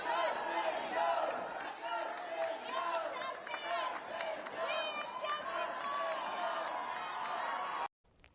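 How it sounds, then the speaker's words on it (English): Supporters of lawmaker Justin Jones cheer and chant at the Tennessee House of Representatives after his swearing-in, a loud sustained crowd roar with rhythmic shouted voices that cuts off abruptly at the end. "A crowd of supporters cheering for lawmaker Justin Jones yesterday after he was sworn back into the Tennessee House of Representatives."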